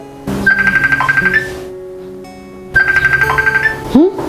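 A phone ringtone plays in two bursts of repeating electronic tones, loud and near, with a brief pause between and a rising chirp at the end.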